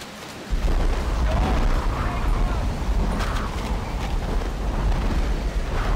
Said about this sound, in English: Get out of my way, man. Pipe bomb.